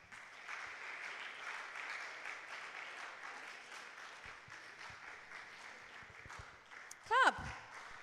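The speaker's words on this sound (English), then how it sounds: "Let's clap for him." Congregation clapping at a religious gathering, a broad continuous patter of applause mixed with crowd voices, ending with a brief loud squeal near the end.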